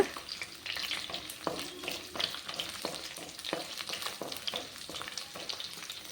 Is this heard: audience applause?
no